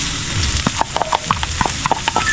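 Chopped garlic, with onion, sautéing in a hot pan alongside browning ginger: a steady oily sizzle broken by sharp scrapes and clicks of a spatula stirring.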